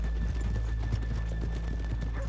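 A horse in the video game Red Dead Redemption 2 clip-clops in a steady rhythm of hooves on the ground while it whinnies, with a constant low engine-like hum underneath.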